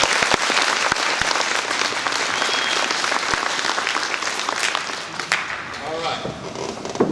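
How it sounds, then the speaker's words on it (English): A crowd at a school NJROTC inspection ceremony claps for a cadet, giving a dense, sustained round of applause that thins slightly toward the end. "Let's give him a round of applause."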